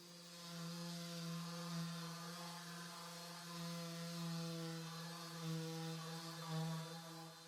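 A machine polisher buffs touch-up paint on a car's clearcoat indoors, giving off a steady, even drone with a low hum that holds throughout and no one speaking.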